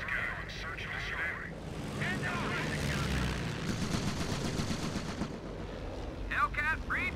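Gunfire crackles through a Company of Heroes Blitzkrieg 2v2 battle at Bizory, dense and continuous beneath rumbling engines and battle noise, with radio-style voice chatter cutting in near the start and end.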